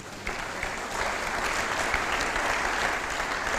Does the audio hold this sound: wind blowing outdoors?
no